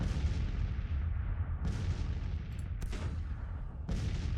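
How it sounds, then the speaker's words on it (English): Massed Civil War artillery in a strategy battle game booming repeatedly, heavy cannon blasts layered over a continuous low rumble, several sharp reports standing out at irregular intervals. "Not all the cannons are firing, but the majority is."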